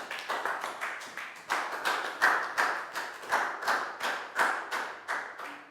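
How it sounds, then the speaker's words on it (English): A school class claps for a student in a steady, even rhythm of about two beats per second, close and moderately loud, with no talk over it. "High five and a big round of applause for Pat."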